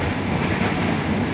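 A KRL commuter train runs along the line near Solo Jebres station, heard from inside as a steady, loud rumble with rushing broadband noise and no distinct clacks.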